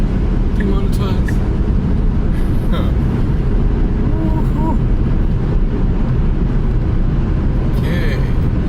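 A Tesla Model S accelerates hard, a loud continuous road and wind rush with low humming drone throughout, while excited voices talk over it.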